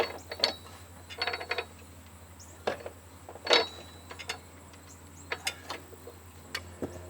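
Metal clicks and ratcheting from a breaker bar tightening the spindle pulley nut on a Husqvarna mower deck, with the blade turned by hand underneath: scattered sharp clinks and short bursts, close and fairly quiet, with no talk.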